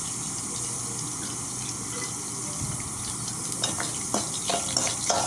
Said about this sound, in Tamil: பூண்டும் வெங்காயமும் நல்லா வதங்கணும்.